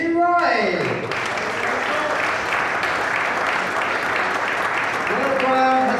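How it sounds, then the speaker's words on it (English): Spectators applaud a finalist at a men's 10m air pistol world cup final, a broad steady patter of clapping between electronic tones at the start and end, with a voice faintly underneath. "Let's have a huge round of applause"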